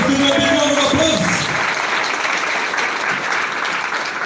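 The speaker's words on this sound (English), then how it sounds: "Let's give them a big round of applause." An audience at a recognition event breaks into sustained applause, a dense, steady clapping that fills the clip after a brief moment of voices and tones at the start.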